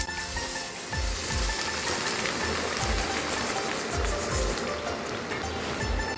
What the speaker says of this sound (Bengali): পরিচ্ছন্ন ফ্রেশ চিড়া ভাজা হচ্ছে।